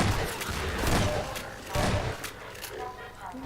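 Gunfire and bursts of shooting in the Half-Life 2 video game, with several loud impacts and thuds scattered through the clip, mixed with an excited voice speaking over the action.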